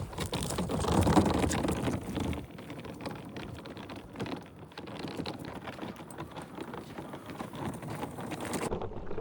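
Small wheels of a 21-inch zipperless hard-shell carry-on suitcase rolling over a bumpy, icy sidewalk, producing a continuous gritty rumbling clatter with uneven bumps, loudest at the start and steady throughout.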